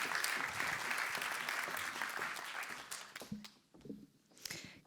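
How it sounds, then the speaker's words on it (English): An indoor theater audience welcomes the US ambassador with warm applause that starts full and steady, then thins into scattered claps and fades out, with a few shuffling noises near the end. "Can I have a warm applause for Shefali Razdan Dugal?"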